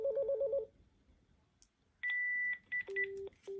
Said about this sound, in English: then you can just intercom that handset and then it'll answer after 2 rings